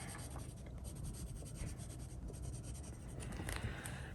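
A colored pencil scratches steadily across coloring-book paper in quick, continuous back-and-forth strokes, close and fairly loud.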